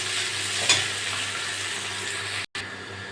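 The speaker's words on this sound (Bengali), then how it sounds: "এই তেলে আমি পেঁয়াজ দিয়ে দেবো। পেঁয়াজটা একটু ভেজে নেব।" Onions fry in the hot oil left after frying potatoes, a steady close sizzle with faint stirring, briefly cut out near the end, with no speech.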